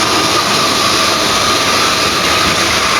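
A model railway train runs on a layout with a loud, continuous rumbling roar and a faint steady whine, heard close and unbroken with no voices.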